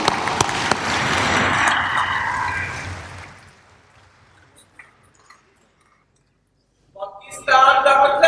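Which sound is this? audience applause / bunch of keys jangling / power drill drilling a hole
audience applause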